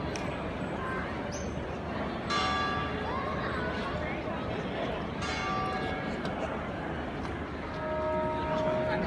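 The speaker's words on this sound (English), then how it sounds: "This is the bell ringing Francisco was talking about." Large church bells in Venice ring out over a busy outdoor crowd, their clangs sustained and ringing with strikes recurring through the clip amid chatter.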